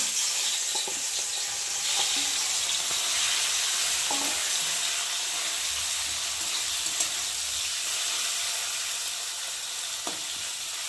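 Shrimp frying in oil for a Bengali bottle-gourd and prawn curry, a steady dense sizzle filling the pan with a few faint stirring taps, close up and without any talking.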